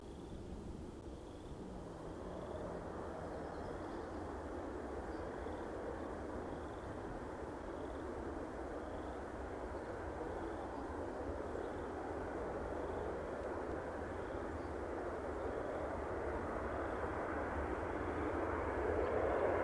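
A WestJet airliner taxiing at Edmonton International Airport gives a steady, broad jet-engine roar at moderate distance that swells slightly louder toward the end.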